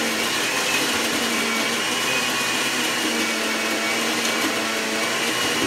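A blender grinds a fat burner drink mix with a loud, continuous, even whir that holds steady from start to finish, alone and without any voices.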